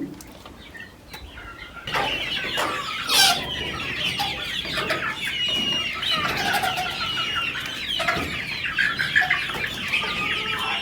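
Several desi chickens cluck and chatter continuously at close range as feed is set before them, a busy overlapping flock with occasional louder squawks, no voices.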